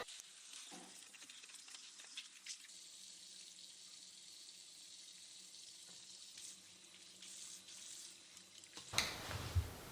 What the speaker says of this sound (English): Garden fresh produce comes dirty, so we need to wash it.